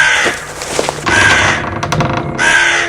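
Harsh crow caws sound loudly and close, three raspy calls separated by short gaps and backed by a low rumble.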